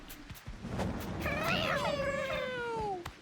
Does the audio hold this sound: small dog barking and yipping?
no